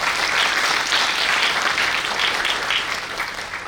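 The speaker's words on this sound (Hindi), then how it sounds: "एक बार जोरदार तालियां मैं अपेक्षित करता हूं" Loud applause from an audience at a personality and productivity workshop, dense steady clapping filling the clip and easing slightly toward the end.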